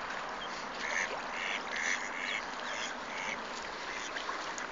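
Several ducks quack in repeated, uneven bursts, fairly close, over a steady outdoor background hiss.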